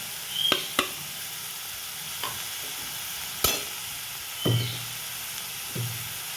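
Ground turmeric, chilli, cumin and coriander spices sizzle and fry in a pan for ghugni, with a few sharp spoon scrapes and stirs against the metal over a soft, steady hiss, close by and without voices.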